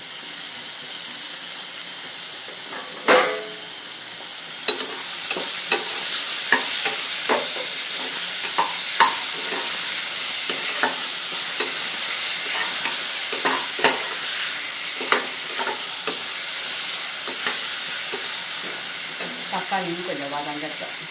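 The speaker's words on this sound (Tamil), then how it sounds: "இப்போ வெங்காயம் கொஞ்சம் வதங்கிட்டு இப்போ தக்காளியும் நம்ம சேர்த்துக்கலாம்." Onions and tomatoes sautéing in a pan for rajma, a steady loud sizzle and hiss running throughout, with frequent scraping stirs of a spoon against the pan and no speech.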